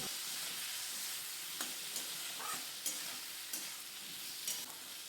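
Potatoes, chopped tomato and salt are stirred in a sizzling pan, a constant soft frying hiss broken by scraping spoon strokes every second or so, quiet and close with no voices.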